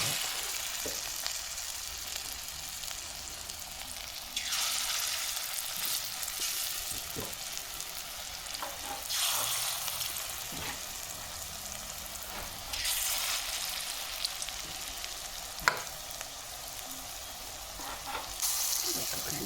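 Bora fritters fry in oil left over from frying papad, a steady close sizzle with surges as batter goes in and occasional stirring taps, no talking.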